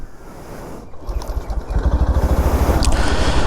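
A 2025 Yamaha FZS V4 Hybrid motorcycle engine cranks briefly and catches, settling into a close, steady low-pitched idle with a regular thumping pulse that grows louder over a couple of seconds.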